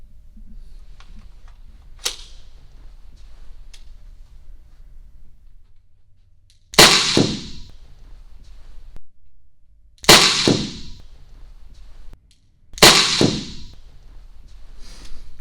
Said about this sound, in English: I'm going to shoot here, low center mass, and we'll see if there's any damage caused